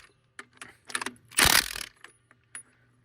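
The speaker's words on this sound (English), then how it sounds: "This is a 3/4 inch impact, so it does the job" A 3/4 inch impact wrench snugs up lug nuts on a truck wheel, giving several short close rattling bursts and one louder sustained hammering burst in the middle before falling quiet.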